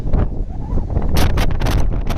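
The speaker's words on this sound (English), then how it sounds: "A little windy up here on the top." Strong gusts of wind buffet the microphone on a mountain top in the Smoky Mountains in loud, uneven bursts of rumbling noise, with no voices heard.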